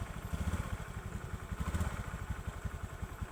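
A motorcycle fitted with a fingerprint alarm runs after a manual start, its engine idling in a low, even, throbbing chug with a slight clatter, steady and fairly close.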